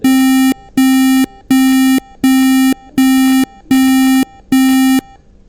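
Arduino PIR motion alarm buzzer in a Wokwi simulation sounding seven loud, even beeps about half a second each, evenly spaced like a busy signal, with no talk.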